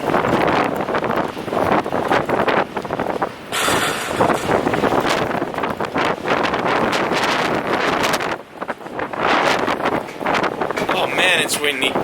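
Strong wind buffets the microphone on the deck of a ferry crossing to Harwich, producing loud roaring gusts with short lulls, while a person talks now and then beneath it.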